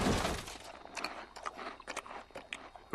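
Close, wet crunching and chewing of food, irregular bursts of crisp bites spread over a few seconds with no talking.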